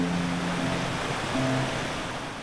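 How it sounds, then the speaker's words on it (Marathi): A mountain stream flows beside a trekking trail up to Rangana fort, giving a steady, close rushing of water with no pauses and a faint low hum underneath. "झरा वाहताना दिसतोय"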